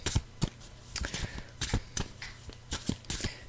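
Tarot cards being shuffled by hand during a card reading, a close run of crisp riffling flicks and soft slaps in an irregular rhythm, with no talking.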